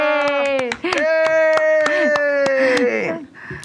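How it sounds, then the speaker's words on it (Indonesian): Sharp hand claps ring out in a quick, uneven burst during a podcast while a person keeps talking loudly over them. "kita kasih tepuk tangan buat Tuhan kita"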